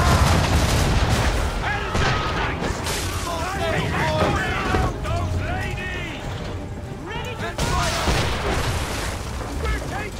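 Ship cannons fire in Assassin's Creed III amid a sea battle, heavy booms and mechanical clatter layered over shouting voices, sustained and loud throughout.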